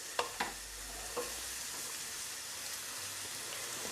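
Food for a chicken and leek pie being stirred in a hot pan, a steady sizzling hiss with a few sharp utensil taps near the start, close and fairly quiet, no voices.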